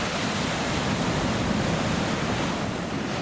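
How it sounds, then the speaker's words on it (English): Ocean surf pounds a rugged Oregon coastline near Thor's Well, a dense, constant roar of crashing waves that stays loud and unbroken throughout with no voices. "watch the ocean waves pound against the rugged coastline"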